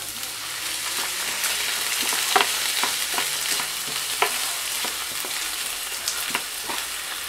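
Garlic and tomato hitting a pan of browned onion, a busy, close sizzle with frequent crisp pops and crackles over a steady frying hiss.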